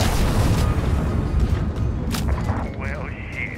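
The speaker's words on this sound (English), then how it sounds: "I see Cleo is still helping out with airstrikes" Video game airstrike explosions, a dense rumbling barrage of booms and thuds that fills the clip, loud and continuous, with a faint tone rising near the end.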